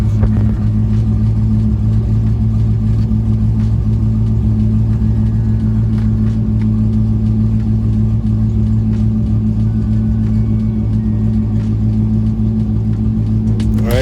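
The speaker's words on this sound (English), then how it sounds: "And now you're ready to test drive or test start your car." A C5 Corvette with a newly replaced starter runs steadily, its loud, continuous low rumble holding an even drone throughout with no break or rise in pitch.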